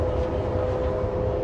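Steady low rumble and drone of a Chinese high-speed train running, a continuous even hum with a faint tonal whine, heard from inside the carriage with no talking.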